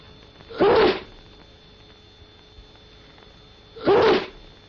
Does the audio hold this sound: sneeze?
yes